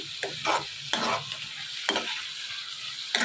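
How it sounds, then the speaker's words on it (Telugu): Amaranth leaves (thotakura) stir-frying in a covered pan, with a steady soft sizzle broken by several short scraping stirs of a spatula spaced through the clip, close and moderately loud with no talking. "ఇదంతా కూడా బాగా కలుపుకుంటూ మూత పెట్టుకుని వేయించుకోవాలి"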